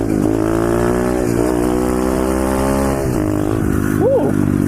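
Pit bike on sidewalks, its small engine revving loud and close with a buzzing, wavering pitch as it holds a wheelie, a voice briefly heard near the end.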